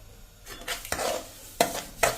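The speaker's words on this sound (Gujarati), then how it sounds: "હવે આપણે જે આ રવો શેક્યો છે ને એમાં જ આપણે આ દૂધ નાખી દેવાનું છે," Boiled milk goes into roasted semolina for a caramel sheera over a slow-to-medium flame, with a spoon stirring in a few sharp scraping bursts and a soft bubbling hiss between them, close and fairly quiet.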